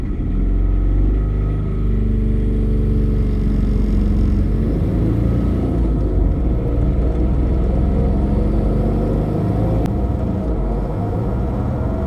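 A turbo diesel Saturn car accelerates at full throttle in fourth gear, a continuous heavy engine drone and rumble with rising tones, loud and steady from the cabin for the whole stretch.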